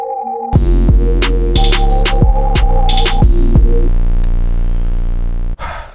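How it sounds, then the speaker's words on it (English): Sampled synth line for a hip-hop beat, loud and alone, with sustained tonal notes over a deep bass drone and repeated bright rhythmic hits, ending in an abrupt cut. "all y'all hearing is something that sounds like a synth"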